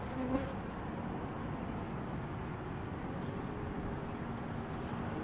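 A dense, steady hum of many honey bees buzzing around an open hive during an inspection on an overcast day, continuous and close, with no talking.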